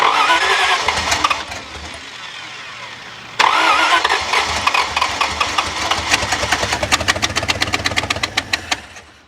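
A 1951 Chrysler Saratoga limousine's Hemi V8, with no exhaust system, runs loud and unmuffled, cuts off briefly, then fires back up with a rough, rapid chugging pulse that gradually settles into a throbbing idle.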